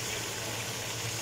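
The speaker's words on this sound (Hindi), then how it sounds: "सिस्टर जो है वो बर्तन साफ कर रही है" Tap water runs steadily into a kitchen sink while dishes are being washed, a continuous close splashing gush with no talk over it.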